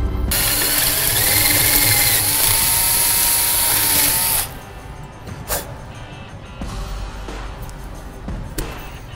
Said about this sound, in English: Now your hole is drilled.